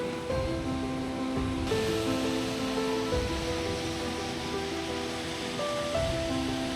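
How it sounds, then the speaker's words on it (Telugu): The Athirapilly waterfall gives a steady, continuous rushing roar that holds at an even level throughout, with sustained melodic tones layered over the water. "వాటర్ ఫాల్స్ సౌండ్ వింటూ ఈ నేచర్ ఎంజాయ్ చేస్తుంటే ఆ ఫీలే వేరు"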